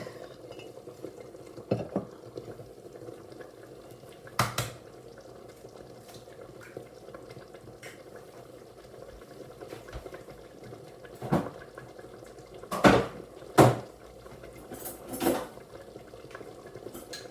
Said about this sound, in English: I get a little dish and an egg out my egg crock